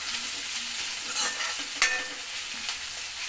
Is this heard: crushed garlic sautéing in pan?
yes